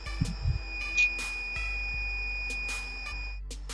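MQ135 gas sensor alarm buzzer triggered: a thin, steady high-pitched electronic tone holding for several seconds, with scattered clicks and bumps from handling nearby.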